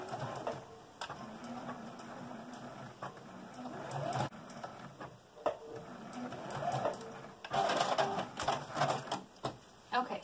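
A sewing machine stitches the sides of a fabric drawstring bag in several bursts of rapid mechanical chatter, close and fairly quiet, with short pauses and a person talking between runs.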